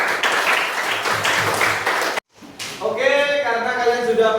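A classroom group gives applause after a presentation, a burst of clapping that cuts off abruptly, then resumes amid voices and laughter.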